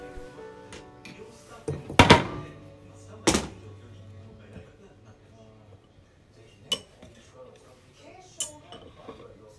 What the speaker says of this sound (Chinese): 这些材料都加好以后，我们把它搅拌一下